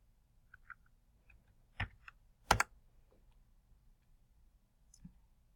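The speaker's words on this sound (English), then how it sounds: "right here I'm typing my first name dot last name" Sparse, quiet clicks of keys being pressed, with a couple of louder taps in the middle and long gaps between.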